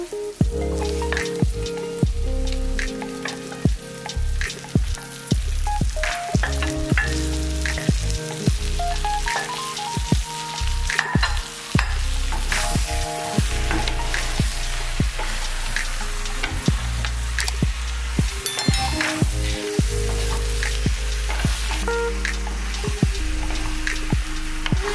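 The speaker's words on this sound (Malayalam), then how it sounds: "ഇനി അതിനകത്തോട്ട് നമ്മൾ നേരത്തെ മാരിനേറ്റ് ചെയ്ത് വെച്ച ചിക്കൻ ഞാൻ ഇട്ട് ഇളക്കാൻ പോവാണ്" Marinated chicken stirred into frying onions in a pan, a steady loud sizzle throughout with repeated scraping and clattering stirs, close and continuous, with no talk.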